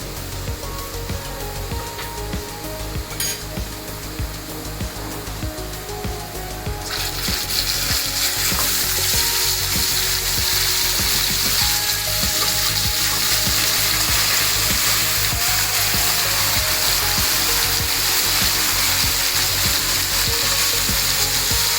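Mutton frying in a pan with fried onions, a continuous loud sizzle that grows stronger partway through as the meat goes in, with occasional stirring.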